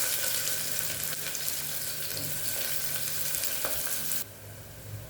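Onions fry in oil in a pressure cooker with cinnamon, cloves and bay leaves for a roadside-style salna, a steady close sizzle that drops off abruptly near the end.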